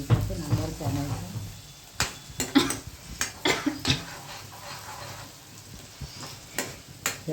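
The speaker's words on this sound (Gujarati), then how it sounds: "આ ડુંગળી મેં નાખીને લસણના મરચાં નાખ્યા." Onion, garlic and chilies frying in a pan, a soft steady sizzle broken by sharp scrapes and clinks of a spoon stirring against the pan, with a person speaking over it.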